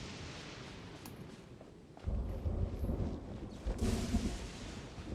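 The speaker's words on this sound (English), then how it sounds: "There's so much lightning." Thunderstorm in the Genshin-style game region of Inazuma, with a low rumble of thunder and rain building into loud crashes around two seconds in and again near the end, no voices present.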